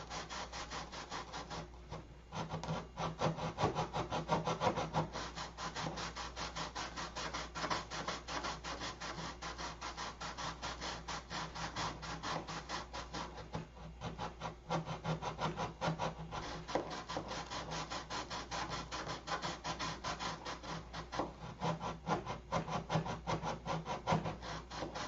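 Steady, rhythmic rasping of abrasive against a wooden pushrod being sanded into a triangular shape, continuous and close throughout with brief pauses and no talk.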